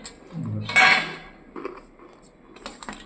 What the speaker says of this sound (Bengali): বসো তোমাকে তরকারিটা দিয়ে দিচ্ছি পাতে এই বাটিতে